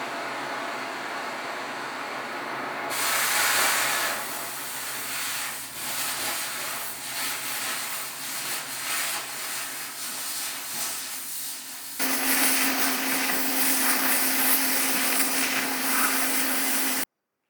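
A Mini Foudre oxygen cutting torch cutting metal, a loud steady roaring hiss that swells as the cutting oxygen opens, with a sharper, harsher jet in the final stretch before cutting off abruptly.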